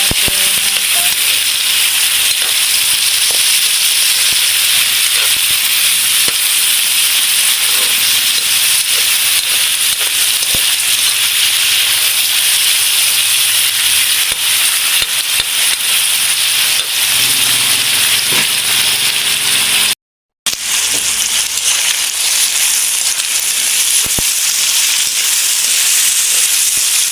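Tender pre-boiled meat dropped into a pot of sautéed garlic and onion and stirred, giving a loud constant hiss and sizzle with faint scraping and a brief cut-out near the end.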